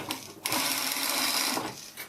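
A sewing machine stitches a fabric pocket onto a reversible origami bag, running in one steady, close whir for about a second with brief quieter starts and stops at either end.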